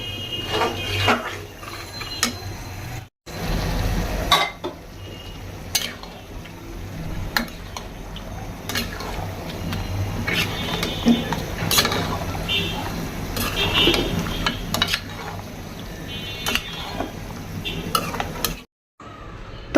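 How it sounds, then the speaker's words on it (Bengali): Biryani spice paste frying and being stirred in a pot, with sizzling and repeated sharp scrapes and clinks of a utensil against the metal at an irregular rhythm, close and moderately loud, with occasional background voices. "বিরিয়ানির মশলা কষাচ্ছি"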